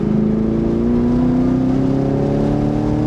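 A 2023 Chevrolet Camaro SS 1LE V8 drives on a race track, engine droning steadily under throttle with its pitch slowly rising and holding, loud and continuous from an onboard position, with no talking.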